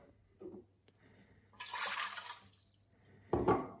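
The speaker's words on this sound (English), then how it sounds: "you take a bowl and pour in 2 cups of lukewarm water" Lukewarm water for pizza dough is poured into a bowl in a couple of short splashing bursts, close and fairly quiet, separated by a pause.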